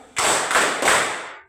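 A class of pupils playing a counting game clap together in a brisk group burst, three close beats of many hands, loud and near, then tailing off.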